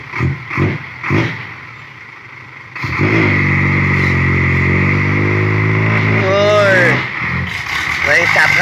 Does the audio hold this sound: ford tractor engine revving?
yes